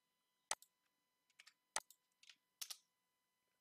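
Keystrokes on a computer keyboard while entering code, heard as sparse, close clicks in small bursts with pauses between them and no talking.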